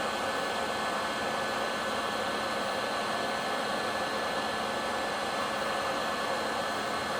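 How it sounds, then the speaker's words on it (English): A heat gun blows on a speaker cable, giving a steady loud fan roar and airy hiss with no change in pitch or level from start to finish. "So, heat gun, give it some heat."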